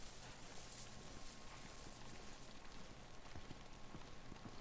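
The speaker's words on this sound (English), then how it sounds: "Great, it's raining." Rain falling in the video game DayZ, a dense steady patter of drops on surfaces, constant and moderately quiet with no other sound standing out.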